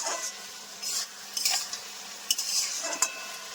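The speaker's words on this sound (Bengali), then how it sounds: "সামান্য ঢাকনা খুলে এবার ভালো করে নাড়াচাড়া করে নেওয়া হবে।" A spatula scrapes and stirs bottle gourd curry cooked with fish oil in a pan, in intermittent sharp strokes over a low sizzle, close and clear with no talking.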